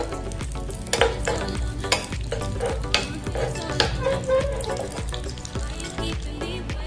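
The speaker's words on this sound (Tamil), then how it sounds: "நெய் வந்து கரிஞ்சிடாம மீடியம் ஃப்ளேம்ல வச்சு நம்ம ரோஸ்ட் பண்ணி எடுத்துக்கலாம்." Something roasts in ghee over a medium flame ahead of adding sugar and cardamom, giving a continuous close sizzle with repeated scraping stirs and clicks of a utensil against the pan.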